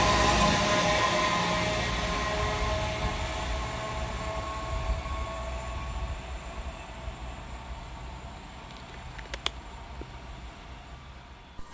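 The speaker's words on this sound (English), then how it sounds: "coming in the opposite direction for Northern is 195123, working 2H86 from Stoke-on-Trent through to Manchester Piccadilly" A Northern class 195 train, unit 195123, passes on a busy line at Levenshulme, its broad rumble starting loud and fading steadily into the distance, followed by a couple of sharp clicks near the end.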